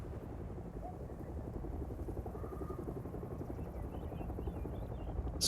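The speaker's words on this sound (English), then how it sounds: "It's like, am I hearing a helicopter?" Faint, distant helicopter in the video game Hell Is Us, a steady low rotor drone holding throughout without fading, with no speech over it.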